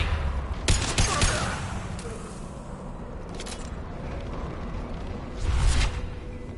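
Gunfire rattles in the sci-fi shooter Mass Effect Legendary Edition, with sharp bursts at around one second and near the end over a steady, busy combat backdrop.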